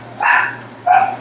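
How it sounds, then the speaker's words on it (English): Two distinct dog barks ring out close by, spaced about half a second apart, over a faint low hum. "I apologize for the dogs barking if you can hear them."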